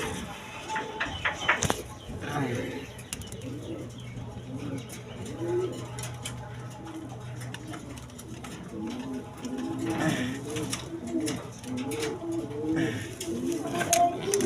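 Domestic pigeons kept for sale, including red three-bar birds, coo in repeated soft, throaty rolling phrases from close by, with occasional chirps and wing movement, while someone talks over them.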